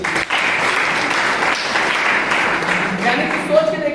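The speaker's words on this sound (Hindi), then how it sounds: "जोरदार तालियां होनी चाहिए।" Loud audience applause erupts at a business plan presentation, a dense wash of clapping from a large crowd sustained throughout, with faint voices mixed in near the end.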